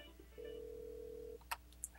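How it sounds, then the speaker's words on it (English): Ringback tone on an Alcatel-Lucent 8068s desk phone on an OXO Connect system: one steady, moderately quiet tone lasting about a second, then two short clicks, with no talk. "We can hear that station is ringing."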